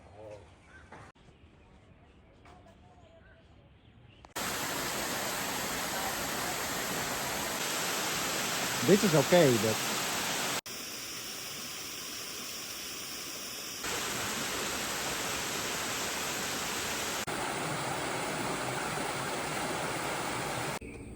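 A waterfall sends up a loud, steady roar of rushing water that starts abruptly after a few quiet seconds and continues unbroken, with brief talking near the start.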